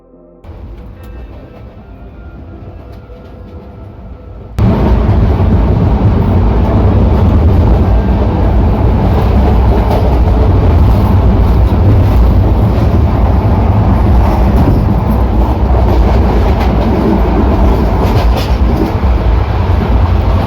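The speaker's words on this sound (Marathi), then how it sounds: "आपली ट्रेन मिरजच्या दिशेने निघाली" The Dhanbad–Kolhapur Dikshabhoomi Express rumbles loudly along the tracks toward Miraj with a steady roar and faint rhythmic clatter, after a quieter opening stretch.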